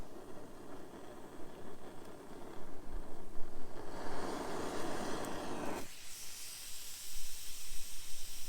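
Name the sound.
water coming to a boil, steam hissing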